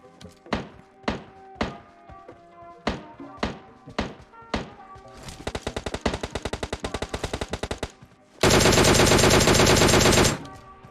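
DP-28 light machine gun in PUBG Mobile Lite, starting with single spaced shots, then a rapid sustained burst, followed by a louder dense stretch of fire before it stops.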